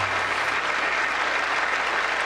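Sustained applause from a large audience at the State of the Union honoring a World War II Medal of Honor recipient, a steady dense wash of clapping filling the room without pause.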